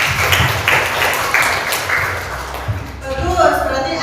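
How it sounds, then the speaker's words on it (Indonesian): Students in an Indonesian-language classroom clap their hands together for several seconds in a busy, close burst. The clapping fades into quieter room noise and classroom chatter toward the end. "tepuk tangan."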